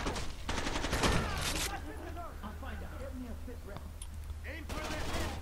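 Gunfire in the shooter game Rainbow Six Vegas 2, with rapid automatic bursts at the start and again at the end, sharp and close, around a quieter middle of scattered impacts.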